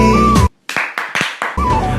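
Four or five sharp, close hand claps land in a brief pause between bursts of loud music.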